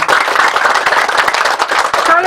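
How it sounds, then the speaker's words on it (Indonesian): A crowd claps at a church groundbreaking ceremony for a new multipurpose hall, producing a loud, steady, dense patter of hands that continues throughout, with voices mixed in. "Saya ajak kita tepuk tangan yang panjang untuk waktu ini."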